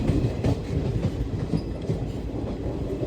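Rail sounds at a small station undergoing widening work, with a steady low rumble and rolling clatter of a train close by, continuous and fairly loud throughout.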